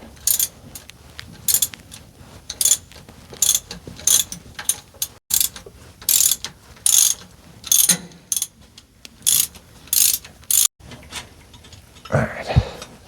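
A hand ratchet loosens a bolt on the rock shaft of an International 966 tractor, making rapid clicking bursts in a steady back-and-forth rhythm, close and loud, followed by a brief metallic clank at the end, with no talk.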